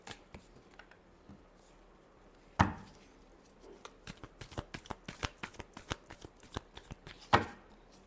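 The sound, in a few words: tarot cards being shuffled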